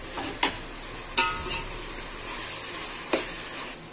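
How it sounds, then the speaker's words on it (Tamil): Soft steady sizzle of masala sautéing in a pan for chicken biryani, with a few sharp clinks of a spoon against the metal scattered through. "சேர்த்துட்டு இதையும் நல்லா வதக்கி கொடுத்துக்கலாம்"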